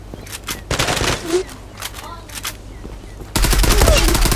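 Gunfire in the video game Zula, with rapid bursts of automatic shots in clusters that grow into dense, louder firing near the end. Voices chatter faintly in between.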